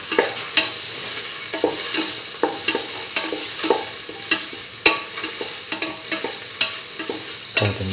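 A curried egg and mung bean stew mixture sautéed in a pan, with steady sizzling and repeated scraping stirs of a utensil throughout, close and moderately loud.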